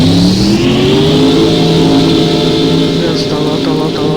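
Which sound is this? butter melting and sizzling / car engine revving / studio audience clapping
car engine revving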